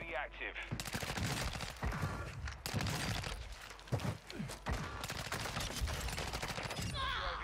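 Honey Badger rifle in a video game firing rapid bursts of sharp automatic gunfire, loud and close, with brief pauses between volleys and occasional talk.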